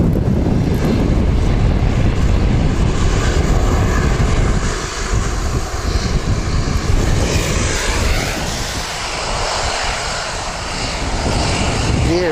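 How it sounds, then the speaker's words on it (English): A Qantas jet going around at Wellington Airport thunders overhead with a loud, sustained engine roar, buffeted by microphone wind noise and easing slightly partway through before swelling again. "Coming around for another go."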